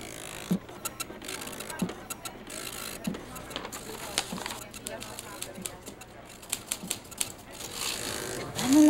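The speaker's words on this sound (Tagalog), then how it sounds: "If I know, mamimiss mo yung mga tikatik ng printer na yan." Rapid mechanical clattering and tapping from an office printer, steady and close, with voices talking underneath.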